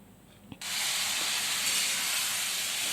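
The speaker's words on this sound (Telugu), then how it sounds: "ఇప్పుడు మనం కట్ చేసిన వంకాయలు కూడా అన్నీ కూడా నెమ్మదిగా ఇందులో వేసుకొని ఫ్రై చేసుకోవాలి ఫ్రెండ్స్." Eggplant pieces for vankaya karam fry drop into hot oil in a kadai, starting a sudden, loud and steady hiss of frying that carries on evenly to the end. A faint clink comes just before, and there is no speech.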